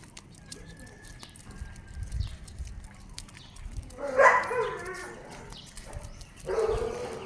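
A dog barks at people walking past a house, two short bursts of barking a few seconds apart at moderate distance over outdoor background noise.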